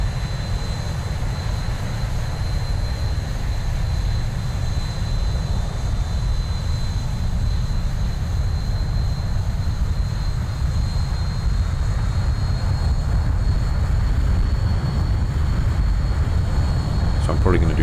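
A Zibo Boeing 737 descending toward Chicago in the X-Plane 11 flight simulator, heard as a steady, low, droning cabin and engine roar with a faint high whine, constant in level throughout.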